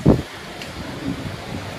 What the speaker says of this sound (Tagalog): Ang lakas ng hangin ah. Parang liliparin yung cellphone ko ah.